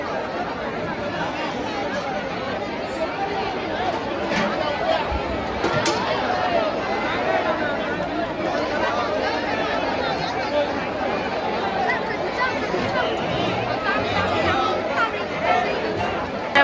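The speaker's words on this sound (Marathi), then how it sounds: "या प्रकारे गर्दी झालेली आहे. लई गर्दी, खूप गर्दी." A large crowd chatters at a village Home Minister program gathered for a meal, a thick, continuous babble of many overlapping voices at moderate level.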